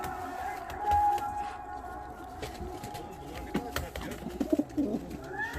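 Danish fancy pigeons, European-ringed birds kept in a loft, coo softly and intermittently at close range against a steady low background hum.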